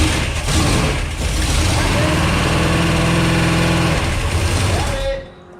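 A small block Mopar V8 runs steadily through cam break-in with no fan fitted, only fuel pump and ignition hooked up, a loud continuous rumble with voices talking over it before it cuts off near the end.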